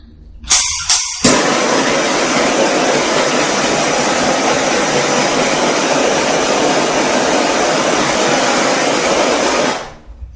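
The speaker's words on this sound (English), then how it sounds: "apply heat with the torch to this material, it smooths out the wrinkles and actually shrinks a little bit" A heat torch blasts hot air onto material to smooth out its wrinkles, giving a few short puffs and then a loud, steady, close roar that cuts off near the end.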